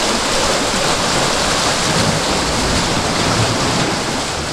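Loud, continuous roar of Black Sea waves washing in at Simeiz, Crimea, a broad steady rush of surf close by with no voices.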